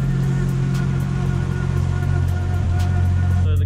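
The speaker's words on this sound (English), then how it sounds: "we just got to warm up the car for a bit" A Nissan Skyline R34 running on E85 idles while warming up, a steady, close, loud low engine drone with no revving and no talk.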